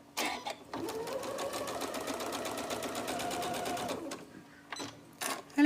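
A sewing machine runs steadily for about three seconds, stitching a straight line across a quilt label in one corner, with brief quieter handling sounds before and after.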